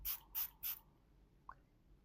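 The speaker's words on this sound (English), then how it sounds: "let me just spray it. I just love spraying it" Rose water is sprayed from a spray bottle in three quick, crisp hissing bursts close up, followed by a faint click.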